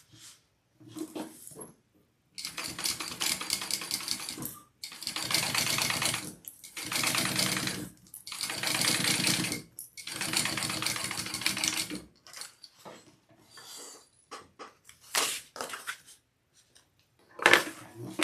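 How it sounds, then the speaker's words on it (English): Sewing machine basting a zipper into a handbag, running in several rapid whirring bursts of a few seconds each, separated by short pauses and handling noises, close and clear with no talking. "So I'm going to go ahead and baste my zipper in, because it will not hurt a dang thing if I do that now."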